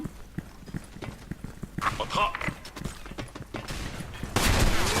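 Gunfire from an M870 shotgun in the online shooter Special Force 2, with several sharp blasts amid other game noise and a louder burst near the end, loud and close.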